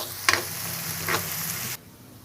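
Onions sizzle in a hot pan with a steady frying hiss and a couple of soft clinks before it cuts off abruptly into near silence.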